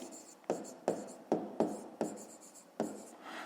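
A pen scratches across paper in a steady run of short strokes, about seven quick taps and scrapes at close range with quiet pauses between, during a fifth-grade math exercise.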